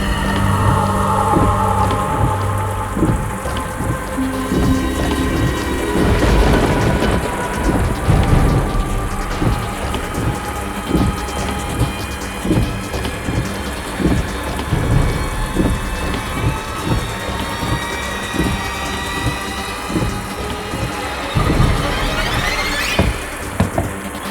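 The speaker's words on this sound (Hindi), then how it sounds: "इतनी तेज बारिश हो रही है" Heavy rain pours down steadily close by, with rumbling thunder rolling through at intervals and building into a loud crack near the end; no voices.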